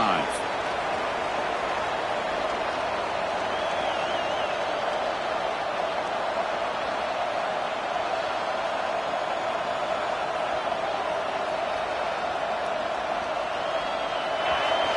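Roaring stadium crowd in a college football video game, a dense, constant wash of cheering and noise that holds steady for fifteen seconds with faint whistles rising above it.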